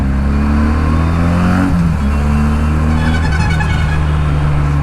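A Benelli 300i motorcycle engine hums loudly and close, with its pitch dipping and climbing again as the throttle is blipped, then settling into a steady drone.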